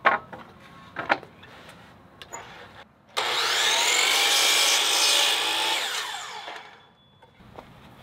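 Saw cutting through a piece of wood for a stop block while a shed is being built, one steady loud cut lasting a few seconds after scattered small knocks and handling noises.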